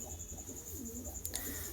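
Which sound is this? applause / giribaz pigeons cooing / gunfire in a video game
giribaz pigeons cooing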